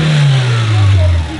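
Car engine revving briefly and loudly, a rising then steady drone held for just over a second, close by.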